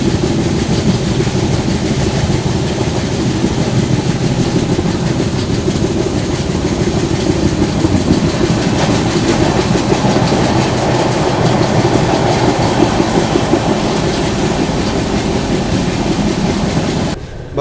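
Inside a 2AC coach of the 12141 Patliputra Superfast Express, on its run from Mumbai LTT toward Patliputra, a loud, steady rumble of wheels on rails rolls on without a break, with no voices.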